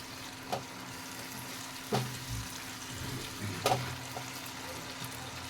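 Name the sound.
stirring tomatoes frying in a pan for soybean chaap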